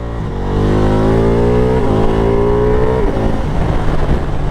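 Ducati Multistrada V4 Pikes Peak adventure bike with an Akrapovic exhaust and dry clutch pulls hard through quick upshifts, its loud, close engine note climbing in pitch and dipping briefly at each gear change across the clip.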